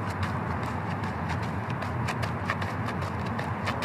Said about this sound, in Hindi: गजराज की बात सुनकर भैंस दौड़ता